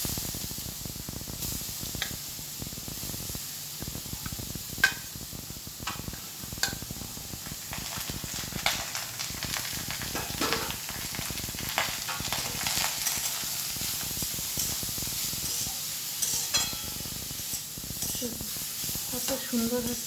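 Papaya pieces fry in a pan with curry leaves, giving a soft, constant sizzle with scattered clicks and scrapes from stirring, heard fairly faintly at a moderate distance.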